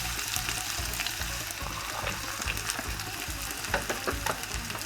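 Onions sizzle in olive oil with rice in a soup stock pot while Greek lemon rice soup is being cooked. A dense, steady crackling frying sound runs the whole time, with small pops and stirring noises near the end.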